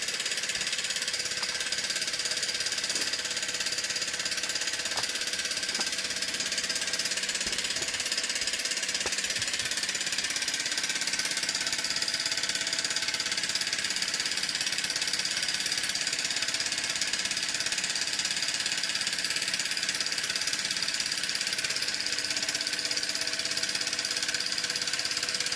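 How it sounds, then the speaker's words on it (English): A steam engine runs steadily with a firebox burner roaring, giving a continuous loud hiss and rumble. Faint mechanical knocks sound beneath it throughout. "Nice smooth engine."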